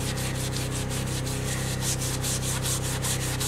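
A Scotch-Brite pad rubbing and polishing an aluminum wheel, a close, steady rhythmic scrubbing with regular back-and-forth strokes over a constant low hum.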